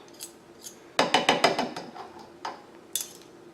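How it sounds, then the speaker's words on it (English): A utensil stirs honey vinaigrette in a bowl, clinking against the sides in a quick run of about eight sharp taps, then a few scattered clicks, close and fairly loud with no talk. "Now I'm gonna have to mix this a little bit, because the honey is a little"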